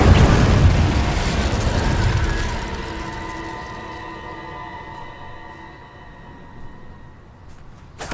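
A booming Incendio fire spell blast in Hogwarts Legacy bursts loud at the start, then trails off into a ringing, shimmering decay that fades over several seconds, with a faint thump near the end.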